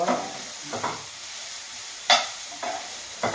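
Ridge gourd peels cook in a pan with oil for a chutney, making a soft, steady sizzle. Several scraping stirs break in at intervals, and no one speaks.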